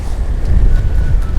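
Wind buffets the microphone aboard a sailboat, a brief loud rushing roar with gusty low-end swells and no talking.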